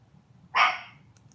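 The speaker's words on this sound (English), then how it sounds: "That's my little doggy." A single sharp bark from a small dog rings out once, fairly close, then fades against quiet background hum.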